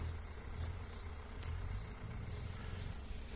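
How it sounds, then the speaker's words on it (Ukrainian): Honey bees flying around an apiary beside blooming rapeseed, a continuous soft insect buzz with a few passing louder drones, heard outdoors at moderate distance with no talking. "Бджілки літають"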